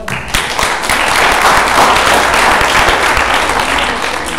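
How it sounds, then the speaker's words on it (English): A full audience applauds at a live technology showcase after a speaker is introduced, with loud, dense, steady clapping throughout with no talk. "A round of applause for John."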